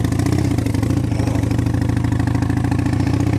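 A motorcycle engine idles loud and close, its steady throbbing rumble and mechanical clatter running continuously without pause on a cool morning before a ride to work.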